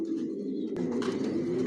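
Silver and other racing pigeons coo in a continuous low murmur close to the microphone, with a sharp click or wing flap partway through.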